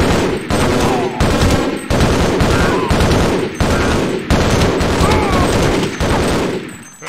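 Loud, sustained bursts of rapid gunfire in Half-Life: Opposing Force, several heavy volleys in a row with brief gaps, close and dense, ending in a fading tail.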